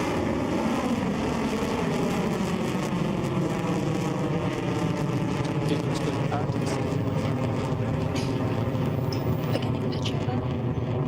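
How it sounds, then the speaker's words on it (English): Rocket engines roar at liftoff in a dense, continuous, loud rumble that holds steady for about eleven seconds. "5, 4, 3, 2, 1. Ignition. Lift off. There she goes."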